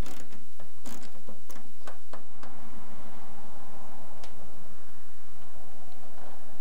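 A wrench working the 3/8-inch nuts off a junction block on a Willys MB jeep, giving a series of close, light metallic clicks and ratcheting ticks early on, then quieter handling noise.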